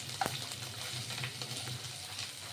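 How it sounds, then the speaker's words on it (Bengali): Mourala fish frying in oil in a wok, a steady close hiss of sizzling with a brief sharper crackle near the start, no voices. "এই মাছ এবার ভাজা থাকবে।"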